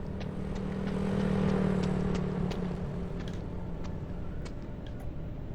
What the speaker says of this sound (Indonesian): kalau ada suara motor nih, dia ada di depan